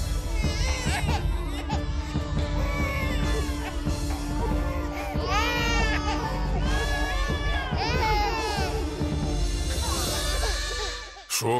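Several babies crying and wailing loudly at once in a Chinese drama, a dense, overlapping chorus of rising and falling sobs that carries on without pause and then cuts off abruptly.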